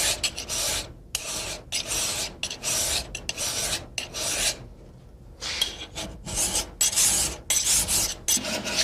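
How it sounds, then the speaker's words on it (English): An 8-inch mill bastard file rasps across a 1911 pistol slide in repeated close strokes, each a harsh scraping burst separated by short pauses, with no speech. "we're going to take a regular 8-inch mill bastard file and cut up here just a little"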